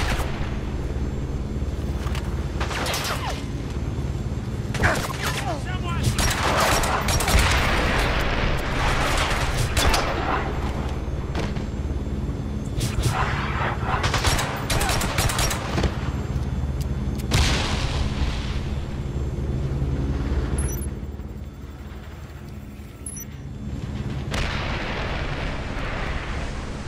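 Gunfire and explosions from the James Bond 007: Blood Stone video game fill the scene, with repeated loud booms and bursts of shooting over a constant low rumble during a bridge chase, easing briefly near the end.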